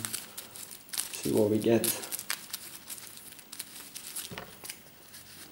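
A deck of game cards being shuffled, a brief crisp burst of riffling and crinkling in the middle while a voice speaks softly over it.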